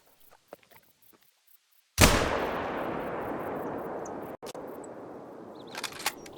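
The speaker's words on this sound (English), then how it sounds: "I decide to shoot just one, which is coming right towards me, and I shoot it" A single rifle shot fired at a bird in the hunting video game theHunter cracks out loud and close after near silence, then rolls into a long, spreading echo that fades slowly over several seconds.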